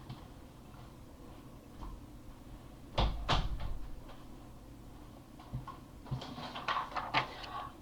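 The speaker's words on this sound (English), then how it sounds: "Let me just close my office door." An office door closes with a sharp close latch click and thud midway through, followed by softer scattered clicks and knocks in a quiet room.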